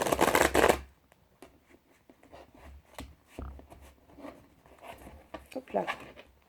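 A deck of playing cards shuffled close up, opening with a loud riffle burst followed by softer intermittent shuffling and handling noises, with someone talking over parts of it.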